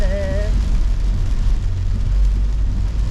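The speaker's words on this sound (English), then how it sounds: "I'll come back out after the rainstorm." Heavy rain in a downpour makes a steady, dense rushing wash with a low rumble beneath, constant throughout, and a brief voice-like tone at the very start.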